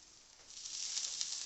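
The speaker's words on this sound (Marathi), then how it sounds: "आणि आता एक एक काप आपण तव्यावर ठेवून भाजून घ्यायचा आहे" Eggplant slices sizzle on an oiled tawa, a faint, soft hiss that swells gradually with light crackling pops.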